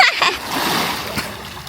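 A person jumps into cold water at an outdoor 18th birthday celebration, giving one loud splash followed by a spreading wash of churning water that fades over about a second.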